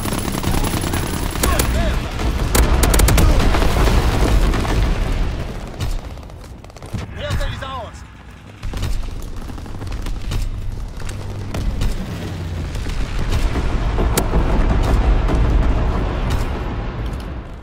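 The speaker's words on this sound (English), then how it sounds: "Carpet bombing run inbound." Carpet bombing in a WW2 battle game near London, heavy overlapping explosions and rumbling blasts mixed with machine gun fire, loud throughout with a brief dip in the middle before the barrage swells again.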